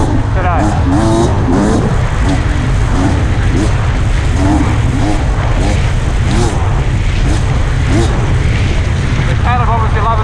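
A 2022 Beta 300 RR 300cc dirt bike engine roars loud and close throughout while riding, revving and shifting pitch with wind rush, with a rider's commentary voice over it.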